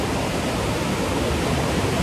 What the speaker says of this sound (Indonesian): Dan makin siang nih ombaknya itu semakin besar.